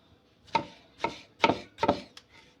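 Knife chopping eggplant, zucchini and pepper on a board for a Turkish vegetable stew, four distinct close, sharp chops at an even rhythm followed by a couple of lighter taps, no talking.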